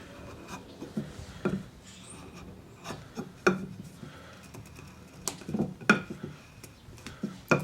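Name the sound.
mortise gauge scribing mortise lines into wood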